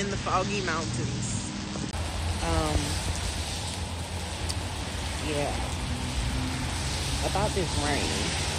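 Steady rain hisses throughout as a broad wash of noise, while a person talks intermittently over it.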